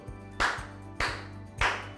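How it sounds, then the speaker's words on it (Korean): An audience gives three brief, separate bursts of clapping at a gathering about a restored historic site in Jeju, each burst short and fairly close. "다 같이 박수!"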